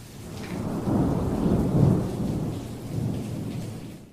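Low rolling thunder rumbling through steady rain, swelling and fading over a few seconds with no voices.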